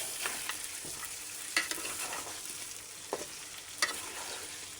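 Pieces of chicken sizzle in a pan over a low flame while a utensil stirs and scrapes at irregular moments, giving a few sharper clatters over the steady close-up frying hiss, with no voices.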